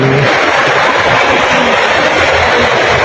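A motorcycle engine runs loud and close at a vehicle registration office, giving a dense, steady roar with no pauses throughout.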